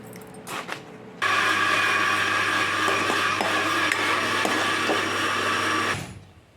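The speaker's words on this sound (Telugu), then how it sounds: "ఇలాగ గ్రైండ్ చేసుకోవాలి." An electric mixer grinder pulverises tomatoes with garlic, cinnamon, cloves, cardamom and salt for a paneer curry. It starts abruptly with a loud, steady whine and rattle that runs for about five seconds, then cuts off and spins down.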